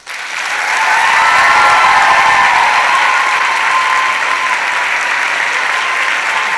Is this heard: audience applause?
yes